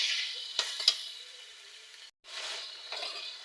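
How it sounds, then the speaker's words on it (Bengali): Ginger-garlic paste and green chillies frying in a pan for chicken curry. A soft sizzle is broken by a few stirring clinks and a brief gap, with no voices. "আমি আদা রসুন দিয়ে ভালো করে এবার 5 মিনিট কষিয়ে নিচ্ছি।"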